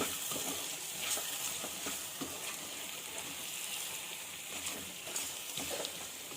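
Spices including cumin powder being stirred into a sizzling bottle-gourd curry mixture in a pan: constant loud frying hiss with scattered soft scrapes of a spoon, no voices.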